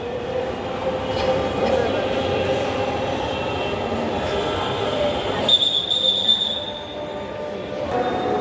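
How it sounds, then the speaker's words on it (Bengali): A Dhaka metro train approaches the station, a steady rumbling roar with a thin high squeal of wheels joining partway through, growing nearer; a voice speaks over it. "মেট্রো ট্রেন দেখতে পাচ্ছি চলে আসছে, একটু মোটামুটি দূরে আছে"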